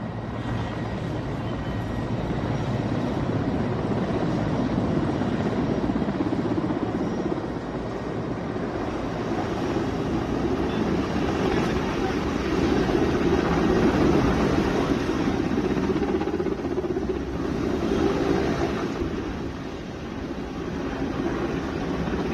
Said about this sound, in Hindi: हेलीकॉप्टर्स के जरिए कमांडो मॉक ड्रिल हो रही है